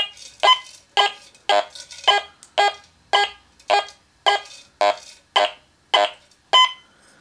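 A metal detector's surface-target alarm pulses in a steady rhythm, about a dozen harsh buzzing bursts evenly spaced, close and alone without voices.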